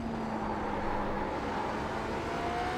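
A BMW LMDh prototype race car in iRacing at Daytona: its engine holds a steady, even drone with a faint humming tone running through it, unbroken for the whole stretch.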